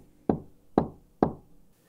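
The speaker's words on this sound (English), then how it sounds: "let's take a simple thing like knocking on a wooden box" Three evenly spaced knocks on a wooden box, each a close, full-bodied thud that rings briefly and decays before the next, with quiet between them and nothing else heard.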